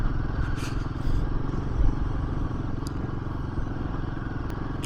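Motorcycle riding a cold mountain road on the Kaza to Manali route, a steady close engine drone with wind rumble and light clatter throughout, no talk.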